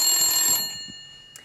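A telephone rings with a bright electronic bell tone that cuts off after about half a second, leaving a fading tail and a faint click, with no talk over it.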